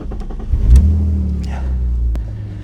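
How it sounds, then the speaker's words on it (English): BMW E46 Compact with a welded differential making a slow U-turn in a parking lot, a close, loud engine rumble that swells briefly and then holds at a steady low drone, with a few short knocks and scrapes. "Let me show you what happens if you try to do a quick slow U-turn with welded diff."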